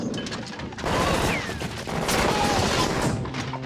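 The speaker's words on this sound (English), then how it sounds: "Because now, you finally get to shoot the gun." Sustained bursts of rapid video game gunfire from a Clone Wars blaster rifle crackle loud and dense, with brief pauses between volleys and whizzing ricochet-like streaks overhead.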